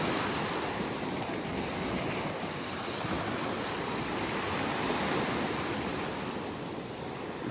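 Ocean surf rolls in steadily at a beach in North Naples, Florida, a continuous broadband wash of breaking waves with some wind noise across the microphone, no voices present.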